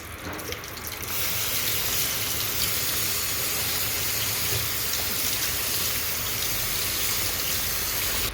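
Moringa leaves rinsed under running water, a steady close splashing gush from a tap into a sink that starts after a brief quieter moment and runs continuously, with no talking.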